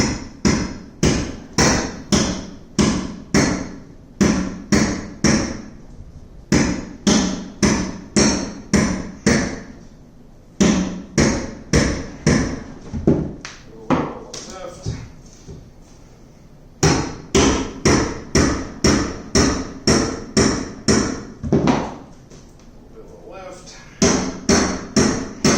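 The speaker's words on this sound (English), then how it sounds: "Grab my hammer." Repeated sharp hammer blows knocking tile off particle board, struck in fast bursts of several hits separated by brief pauses, loud and close throughout.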